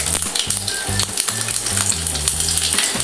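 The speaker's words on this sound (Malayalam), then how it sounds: "കടുക് പൊട്ടിക്കാൻ പോവാണേ." Mustard seeds crackle and splutter in hot oil with dried red chillies for a Kerala-style thoran, a close, steady sizzle with dense popping throughout, no voices.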